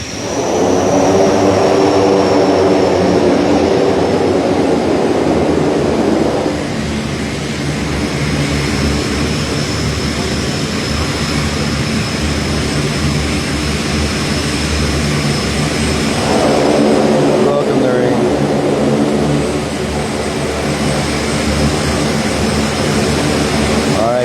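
Airplane turning and taxiing toward the terminal on an airport apron, a loud continuous engine roar with a steady high whine that swells and eases, close by and without talk.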